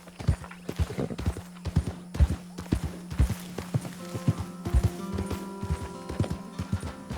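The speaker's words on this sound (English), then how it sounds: "the horse has hunger" Horse hooves clip-clop steadily along a path in the Red Dead Redemption 2 video game, heard close in first person, with a low ambient drone and occasional soft game tones behind the hoofbeats.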